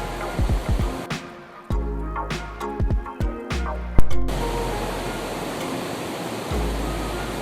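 A hill river, the Balkhila in Uttarakhand, rushes past in a steady broadband wash of flowing water, with a few brief knocks and clicks near the start before the even roar continues alone.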